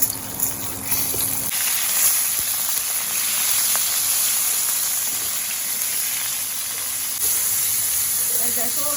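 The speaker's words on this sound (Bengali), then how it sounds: "আর সেই সঙ্গে এই যে কপিগুলো দিয়ে দিচ্ছি তেলে।" Cauliflower florets dropped into hot oil for a vegetable khichuri, giving a steady broadband hiss and sizzle that runs close and fairly loud throughout, with small crackling spits near the end.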